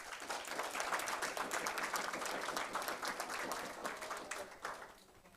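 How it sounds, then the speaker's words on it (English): Audience applause for sponsors and partners at an inter-secondary-school food safety debate competition, a steady round of clapping that carries on at moderate level for several seconds before easing slightly at the end. "please join me in giving our sponsors and partners a warm round of applause"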